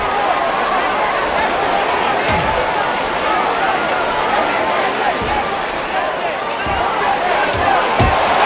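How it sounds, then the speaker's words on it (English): Arena crowd in the fighting game UFC Undisputed, a loud continuous roar and murmur of spectators with thuds of impacts scattered through it, and a voice talking over the noise. "the crowd reacting"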